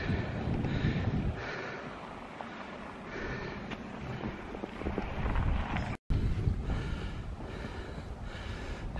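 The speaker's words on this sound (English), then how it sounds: "the wind's getting up a bit on the hill here" Steady wind buffeting the microphone on an open hillside on Senja Island in northern Norway, a continuous rushing roar with gusts rising and falling, close and fairly loud, and no talking.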